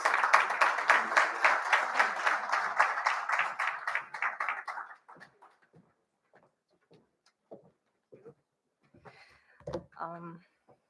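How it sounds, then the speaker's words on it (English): A round of audience applause greets a panel moderator heading to the podium at an afternoon conference session, loud and rhythmic for about four seconds before fading into scattered room noise and a few faint voices. "May we give her a round of applause, please."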